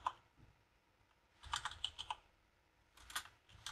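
Two quick bursts of clicky keystrokes on a computer keyboard, close but quiet, separated by a short lull, with no voices.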